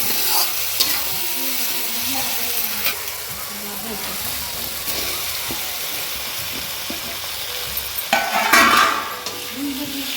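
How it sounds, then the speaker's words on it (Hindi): Spices, turmeric and tomato sizzle and fry in a pan while being stirred, giving a steady crackling hiss with occasional scraping bursts. Quiet talk is heard faintly in the background. "सारी चीजों को अच्छे से मिला लेंगे।"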